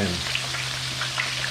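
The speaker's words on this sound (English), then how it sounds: "Look how them fish sizzling." Fish frying in a pan of hot oil, giving a steady, close crackling sizzle with a low constant hum beneath it, no talking.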